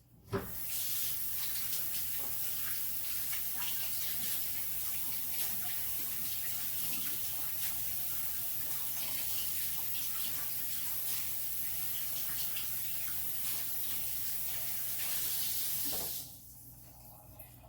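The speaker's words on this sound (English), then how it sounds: "Wash my hands good, because I'm just going to dig in and make these patties by hand." Tap water runs steadily for about sixteen seconds as hands are washed at a kitchen sink before mixing chicken, spinach and cheese patties, a close, constant splashing hiss that stops abruptly near the end.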